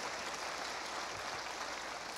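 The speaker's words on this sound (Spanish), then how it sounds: "Dale palmas a Jesús por ese gozo" A church congregation claps together in a dense, even wash of applause that holds steady and fairly loud for the whole short stretch.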